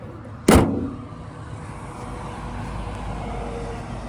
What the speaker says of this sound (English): I will close up the hood